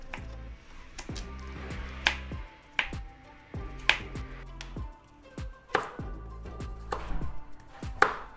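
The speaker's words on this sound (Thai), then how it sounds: "ต่อไปก็จัดการกับแครอทปอกแล้วก็หั่นเป็นเต๋านะ" Steady knife chops dicing peeled carrots on a cutting board, sharp rhythmic taps roughly every second, close and clear with no talking.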